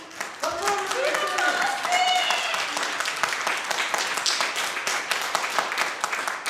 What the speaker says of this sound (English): I'm going to ask that you refrain from clapping